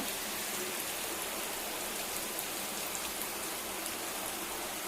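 Chopped beans and carrots sauté in a pan on a low flame, giving a soft, steady, even hiss that holds without break throughout.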